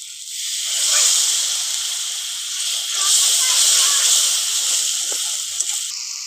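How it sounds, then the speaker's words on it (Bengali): Water poured into sizzling masala of ground cumin in a pan, bursting into a loud, sustained steamy hiss that swells twice and settles, with a few faint clinks near the end. "এবার মশলাটাকে ভালো করে কষিয়ে নেব। এবার দেবো একটুখানি জল।"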